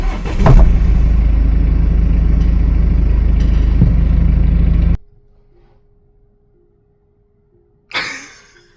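A combustion car's engine runs loudly with a strong low rumble, then cuts off abruptly into near silence, followed by a brief burst of noise near the end.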